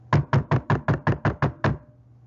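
Nine quick, even knocks on a door in a steady rhythm, close and loud, with a short quiet decay afterward and no voices.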